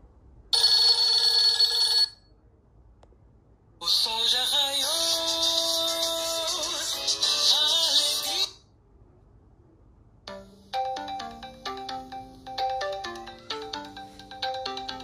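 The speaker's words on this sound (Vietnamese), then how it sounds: "mình lên vô thử chuông khác." Several ringtones sound from a Nokia 6120 mobile phone in turn: a brief bright burst, a longer warbling electronic melody, then a plucky tune of rapid notes, each separated by short pauses, loud and close.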